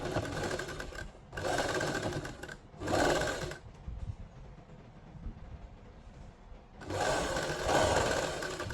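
A sewing machine stitches a neckline facing in several bursts of whirring, close and loud, separated by short pauses with quieter handling between runs.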